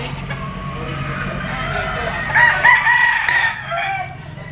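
A Bullstag gamefowl rooster crows once in a loud, close, drawn-out call over a background of farmyard murmur and faint clucking.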